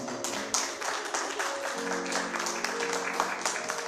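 Congregation at a Spanish-language church service applauding the Lord, a steady wash of clapping that runs throughout over sustained musical tones, moderately loud.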